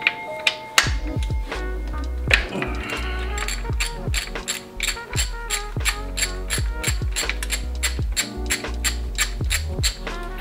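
A ratchet wrench clicks rapidly and steadily while loosening the cam chain tensioner on a Mercedes M271 engine, with close, crisp metallic ticks and a few heavier knocks.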